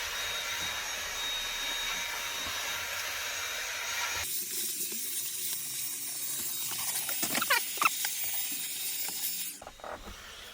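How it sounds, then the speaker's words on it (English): A household vacuum cleaner roars steadily with a broad whooshing hiss inside an Iveco Daily van conversion. It cuts out abruptly partway through, leaving a few clattering knocks and scrapes before the sound drops away. "you do need to Hoover a lot"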